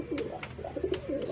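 A pair of pigeons coo softly and close by in a quick series of short, throaty, rolling calls, with no voices present.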